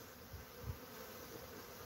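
Scout bees buzz faintly at a hive site in a steady, low drone, with a couple of brief louder passes close by.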